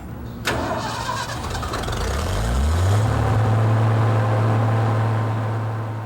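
Cold War jet engine starting from a ground start cart: a sharp onset, then a loud whine that spools upward and settles into a steady, powerful roar.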